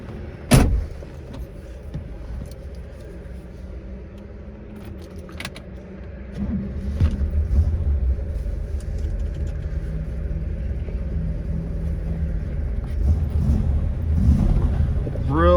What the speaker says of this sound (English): Really nice sounding engine,